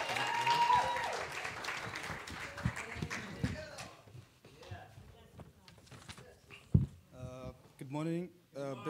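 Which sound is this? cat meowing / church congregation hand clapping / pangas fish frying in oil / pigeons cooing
church congregation hand clapping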